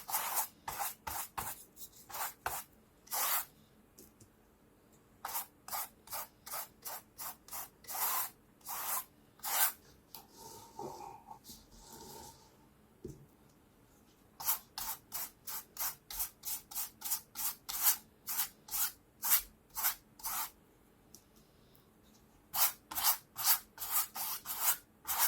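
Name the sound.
brushing gloss Mod Podge onto top of canvas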